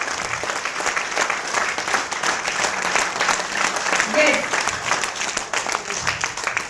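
An audience breaks into sustained applause at a motivational talk, a dense steady clapping that holds for several seconds with a voice faintly mixed underneath.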